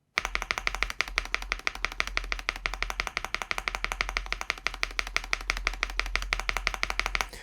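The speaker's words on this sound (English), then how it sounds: "And then the space bar" Spacebar on an ND75 custom mechanical keyboard struck rapidly and repeatedly, a dense run of close, even thocks and clacks that continues steadily for several seconds with no talking.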